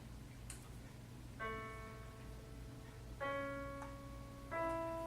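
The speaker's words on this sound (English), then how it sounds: "I will play for you what that chord would sound like" Three faint major-triad chords sound on a makeshift piano, each a sustained harmonic chord entering about every one and a half seconds and fading slowly over a low steady hum.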